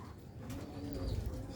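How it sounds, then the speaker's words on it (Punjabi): Sialkoti roof pigeons coo softly and low in a short, faint burst. "ਲੋ ਵੀ ਦੋਸਤੋ, ਇਹ ਨੇ ਉਹ ਕਬੂਤਰ ਮਿਆਰੀ ਤੇ ਰੀਜਨਲ"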